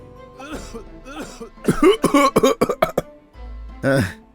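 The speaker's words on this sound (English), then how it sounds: "No more coughing." Several harsh coughs in a quick burst, loud and close, with someone talking briefly before them and a final cough after a pause.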